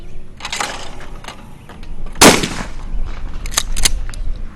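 A shotgun fires at a thrown clay target during outdoor trap shooting, one sharp loud blast standing out from steady background noise, with smaller clicks and knocks around it.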